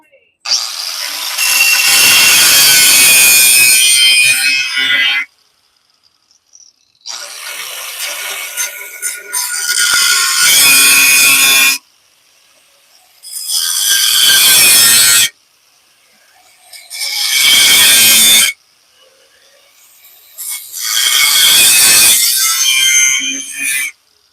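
Power grinder running in five loud bursts with short pauses, working on a 1990 Jeep Wrangler, its harsh broadband whine rising and cutting off between passes, close by.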